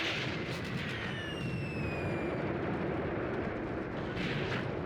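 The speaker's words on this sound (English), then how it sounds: "Where are those mortars coming from?" Incoming mortar fire in the tank combat video game Tank Warfare: Tunisia 1943: a dense, sustained roar of distant artillery blasts, with whistling shells descending in pitch across the first half, loud and continuous without speech.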